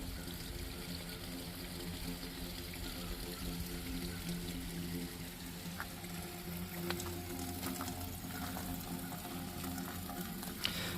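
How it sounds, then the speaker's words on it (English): Water drains out of a pit and runs off into a creek in a state park woodland, a faint steady trickling and pouring wash with scattered small patters, continuous and fairly distant, no voices. "It comes out of here and drains and eventually runs off into the creek."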